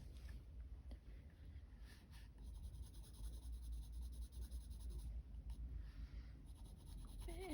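A pencil shades on paper during a drawing session, producing soft, continuous scratchy strokes that are faint and close, with small breaks between passes and no talk.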